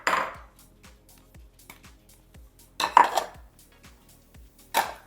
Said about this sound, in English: I'm gonna put those all into a bowl and mix them up.